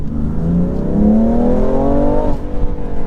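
A BMW M3 Competition's engine drones loudly and steadily with rising tone, its exhaust burbling close by throughout, with no voices.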